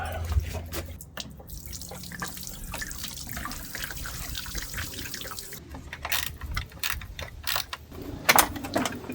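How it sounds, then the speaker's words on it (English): Coolant drains from a popped radiator pipe on a Mk3 Golf GTI onto the road, a steady close splashing and trickling with intermittent clicks and knocks from nearby handling. "I've got to pop a pipe off and just let all the coolant bugger off across the road"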